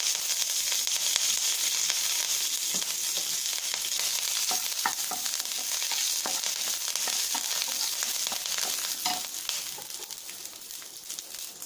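Dried red chillies and curry leaves fry in hot oil with a steady, busy crackling sizzle that runs throughout, close and fairly quiet, with no talking.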